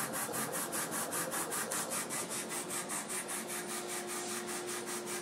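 A 30-watt LaserPro CO2 laser engraver running at 20% power and full speed gives a steady, rhythmic whooshing scan with regular pulses and a faint constant tone, close and continuous, no talk.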